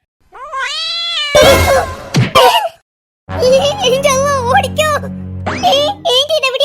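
A cat meows loudly and repeatedly in drawn-out, wavering cries, mixed with a voice and a brief pause partway through.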